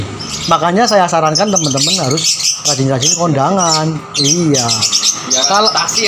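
Pet lovebirds kept in a home colony, chirping and squawking loudly in repeated bursts close by, mixed with people talking.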